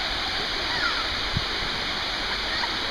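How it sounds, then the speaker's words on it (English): A small waterfall in the Finger Lakes runs thinly over rocks, making a steady, close, continuous wash of falling water with a faint splash partway through. "Not a ton of water coming over it"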